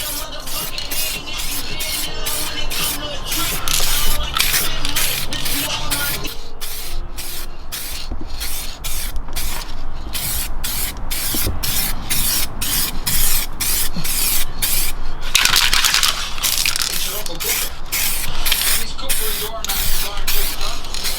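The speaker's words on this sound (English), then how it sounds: "Now we're ready to spray." Short and longer bursts of spray paint hiss repeat with brief gaps as a wheel rim is painted, close and steady, with faint talk underneath at times.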